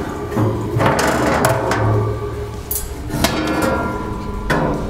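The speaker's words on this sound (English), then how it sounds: "To do that, we're just going to remove these bottom grates." Metal bottom grates lifted out of a Camp Chef Woodwind WiFi SG 24 pellet grill, giving several sharp clanks and rattles spread irregularly over a few seconds, close and fairly loud, with no talking.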